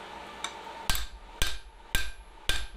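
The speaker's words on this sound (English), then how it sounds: "This is part of why I made this hammer with a square face." A square-faced hammer strikes hot steel while a garden trowel is hand forged, with five sharp ringing blows at a steady, slightly slowing rhythm after a lighter tap, close and loud.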